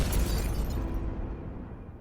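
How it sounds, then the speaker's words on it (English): A deep, rumbling explosion at a cannery building, with a long roaring tail that slowly fades, loud and broadband, with no voices. "I heard an explosion."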